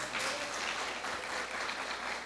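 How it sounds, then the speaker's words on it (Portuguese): A church congregation applauds its young people during a sermon, a steady wash of clapping from a crowd that holds at an even level for a couple of seconds, with no one talking over it. "Quero que vocês dêem uma salva de palmas para os nossos jovens aí"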